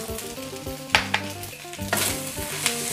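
Fried rice with naem (Thai fermented pork) and spring onions is stir-fried in a pan, a continuous sizzle broken by sharp scraping strokes and metallic clanks of a spatula, close up and with no one speaking.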